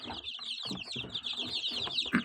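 Young chicks in a brooder cheep continuously in a dense, high chorus of many overlapping peeps, close by and steady, with some rustling and a few lower clucking sounds beneath.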